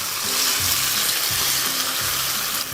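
Tofu pan-frying over medium heat for a Chinese New Year reunion dinner, a steady close sizzle that holds evenly throughout with light stirring or scraping beneath it and no voices.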